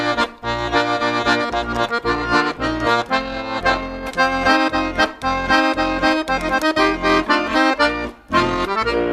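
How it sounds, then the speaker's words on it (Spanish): A polka rhythm in 2/4 played on a chamamé instrument, bright reedy chords bouncing in a steady oom-pah pulse with short accented stabs, loud and close with no voices. "Una polca suena así, por ejemplo."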